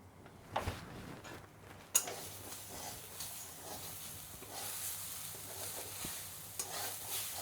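Coconut ladoo mixture is stirred and scraped in a kadhai over the stove, with a soft ongoing sizzle and a few sharp clinks of the spoon against the pan.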